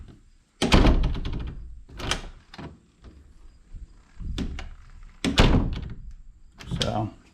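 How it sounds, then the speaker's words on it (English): A sliding barn door is eased shut, giving a series of wooden thunks, rolls and knocks spread over several seconds, moderately close, with a voice talking during part of the movement. "I'll just lightly shut the door."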